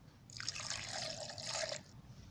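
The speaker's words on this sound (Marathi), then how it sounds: "हे 2 ग्लास पाणी ओतायचं" Two glasses of water are poured into a mixer jar for Rooh Afza sharbat, a single close splashing pour lasting under two seconds before stopping.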